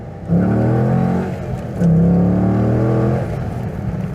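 A Corvette C5 sports car engine revs hard twice, each surge a loud, throaty roar that holds and then eases back to a lower drone.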